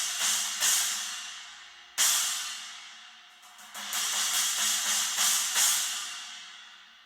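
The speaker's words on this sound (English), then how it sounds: "I guess it would be called like a Byzance vintage trash china." Byzance R&D 18-inch vintage trash china cymbal struck several times, each crash bright and washy with a trashy, fast-decaying sizzle, then a quicker run of repeated hits near the end, played alone.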